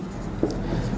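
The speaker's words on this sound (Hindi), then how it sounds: "दिया में लिखेंगे त्रिभुज एबीसी" A pen writes a geometry proof in Hindi on paper, a brief soft scratching lasting about a second, close and faint, with no voices.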